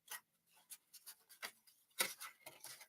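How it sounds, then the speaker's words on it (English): Tarot cards being shuffled by hand, with a series of soft, quiet papery swishes and light slaps in an irregular rhythm, close and faint. "I'm just shuffling these cards around to make sure there's no other energy that wants to pop out here"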